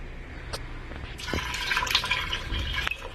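Water pours into a pot of rice, a soft liquid splash and trickle starting after a couple of faint clicks and continuing briefly at low volume.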